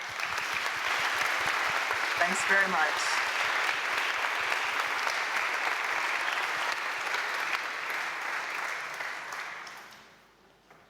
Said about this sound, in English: I wanted to thank her and give her another round of applause